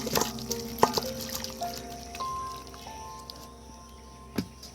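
Chicken curry with potatoes pours and drips from a pan, made with just one spoon of oil, giving soft wet squishes and trickles with a few louder splats, close and quiet with no talk.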